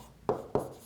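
Two short scratchy pen strokes on paper during a math lesson, close and fairly quiet, spaced about a quarter second apart over a low room hum.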